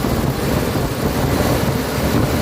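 A Mitsubishi Adventure with a 4G63 gasoline engine runs after an electrical supply fault was repaired. It gives a loud, steady, close rumble with no breaks and no talk over it.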